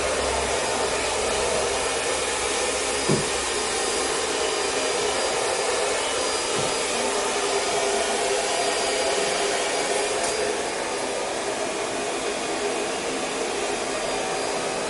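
A hair dryer blows steadily on hair as a vertical section is dried forward, a loud, unbroken whoosh of airflow with a faint motor whine running throughout and only tiny bumps as it moves.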